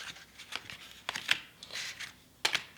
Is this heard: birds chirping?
no